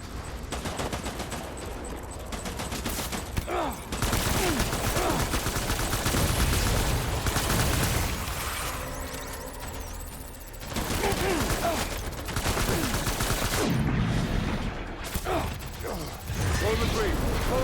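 Gunfire in Death Stranding, with long stretches of loud, sustained automatic fire and clattering bursts during a firefight, voices talking over parts of it.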